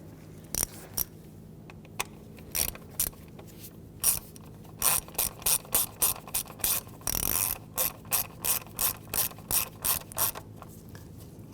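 Ratchet wrench tightening an ignition coil bolt on a 2.4L four-cylinder Jeep Patriot: rapid close clicking in short bursts, faster and denser toward the end, over a low steady background hum.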